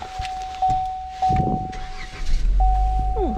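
A car's warning chime tones sound, then an engine cranks and catches, settling into a low running rumble close by.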